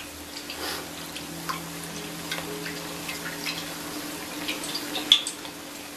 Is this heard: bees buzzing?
no